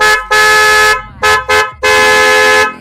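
A budget XCL DB car horn honks loudly and close: one long blast, two quick short toots, then another long sustained blast, with no talking over it.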